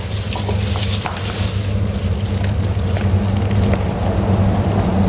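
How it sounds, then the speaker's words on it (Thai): About 200 ml of syrup goes into a pan for candied lime and sizzles steadily. A loud, constant hiss and bubbling carries on for the whole five seconds, with a low hum underneath. "ใส่น้ำเชื่อมลงไป 200 มิลลิลิตรค่ะ"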